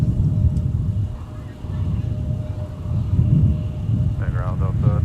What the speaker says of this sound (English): we've got United departing runway 30 left